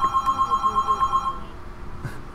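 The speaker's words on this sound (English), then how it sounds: "This phone from the 80s, or possibly the 90s, which is ringing in the background." A telephone from the 1980s or 1990s rings in The Sims 3 game, a steady pulsing electronic bell repeating in even bursts for over a second, then stopping, fairly clear against quiet game background.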